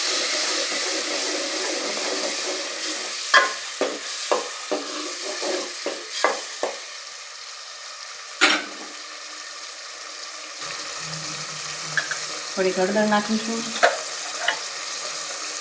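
Tomato gravy is stirred gently in a pot for Kathiyawadi dhokli shaak, giving a run of soft spoon clicks and scrapes over a low simmering hiss, then quieter bubbling and a few later taps, with brief speech.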